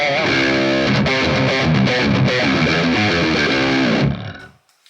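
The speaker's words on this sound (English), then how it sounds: "I added even an octave pedal with a low setting in front, so you have even more deep and big and obese sounding distortion from rhythm" A heavily distorted prog metal electric guitar played through an octave pedal set low, with a little room reverb, chugs loud rhythm riffs for about four seconds before cutting off and ringing away.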